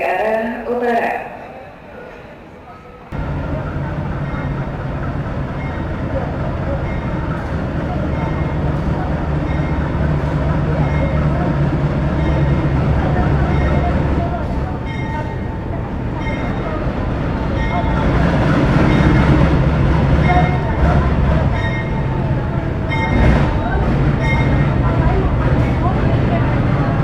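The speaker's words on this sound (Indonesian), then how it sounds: "yang saat ini tersedia di jalur 6 kereta api tambahan Surabaya Gubeng hingga Kiara Condong" Passenger train standing at station platform 6, an extra service from Surabaya Gubeng to Kiara Condong, with a steady low rumble and hiss of idling cars, rising slightly later, under station ambience and occasional talk.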